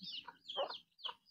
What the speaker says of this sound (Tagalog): Yan ang manok namin.